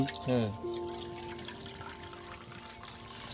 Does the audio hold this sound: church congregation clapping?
no